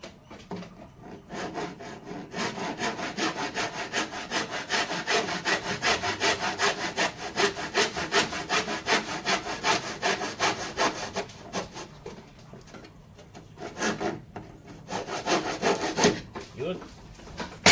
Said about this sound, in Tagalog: Lagariin ko.